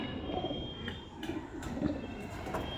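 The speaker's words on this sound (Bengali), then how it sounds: "এটা হলো কালাঙ্কা পায়রা" Soft, low cooing from a Kalanka pigeon repeats a few times against a steady background hiss, fairly close but not loud.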